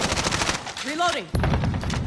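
Rapid automatic gunfire in a Call of Duty multiplayer match, loud bursts of shots with a brief whistling sweep in the middle before the firing resumes.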